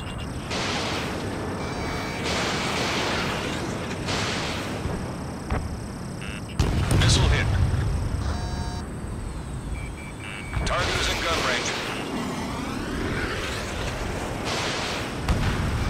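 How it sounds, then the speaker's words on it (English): Missiles launch during a team deathmatch dogfight in Ace Combat 7 with an Su-47 carrying QAAMs: repeated sharp launch bursts and booming blasts over a constant jet-engine roar and cockpit alert tones. "Alpha 1, missile fired."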